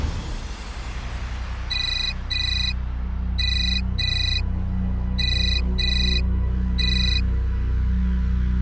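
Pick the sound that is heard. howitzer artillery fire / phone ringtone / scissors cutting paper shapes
phone ringtone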